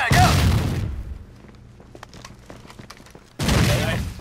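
Frag grenade explosions in the shooter game Ravenshack: a loud, close blast with a broad roaring burst, a quieter stretch of faint scattered pops, then a second heavy explosion near the end.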